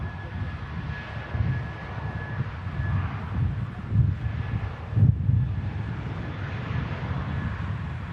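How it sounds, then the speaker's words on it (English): A Vueling aircraft taxiing or departing at an airport, heard as a steady low engine rumble mixed with breeze buffeting the microphone, moderately distant and continuous. "But for now, we'll catch this special Vueling aircraft."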